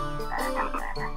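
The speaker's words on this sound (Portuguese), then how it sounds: "Uau! Olhem tantas rãs." A chorus of cartoon frogs at a train station croaking in quick overlapping calls, a busy animated-sounding group close up with no talk.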